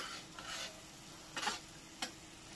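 Egg masala tawa fry cooks gently on a low flame, a faint soft sizzle with a few light spatula scrapes and taps against the tawa, quiet and close.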